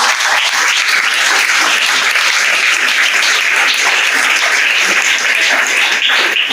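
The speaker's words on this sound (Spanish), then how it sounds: "Fuertes aplausos para el Señor" Loud, dense applause from a large church congregation, continuous and sustained throughout without a break.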